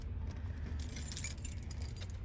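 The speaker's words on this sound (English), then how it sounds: "Here's my keys." A bunch of car keys jangles and clinks during a DIY turn-signal relay repair, a short burst of bright metallic rattling held near the microphone over a low, steady background hum.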